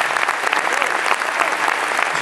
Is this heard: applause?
yes